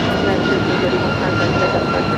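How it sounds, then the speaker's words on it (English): A United Airlines Boeing 757 jet at LAX, heard as a continuous, loud broadband engine roar, steady and close, with no voices. "United Airlines flight 1331. It's a 757 at 200."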